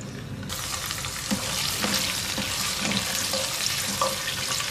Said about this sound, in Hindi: तेल हल्का सा गर्म हो जाए तो इसमें तकरीबन 15-20 बादाम डालेंगे छिले हुए